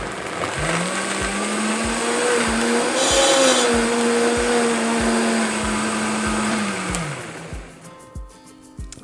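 A blender whirs steadily as it purees vegetables with cream, a loud continuous motor drone that holds nearly the whole time, then spins down and stops near the end.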